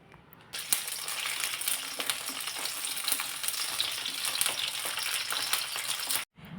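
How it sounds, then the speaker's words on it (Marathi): Chopped tomatoes go into hot oil and fry with a steady, crackling sizzle that starts abruptly, holds loud and close for about six seconds, then cuts off briefly near the end. "तेल गरम झालं की मी जिरे मोहरीची फोडणी न देता चिरलेले टोमॅटो लगेचच घातलेले आहेत"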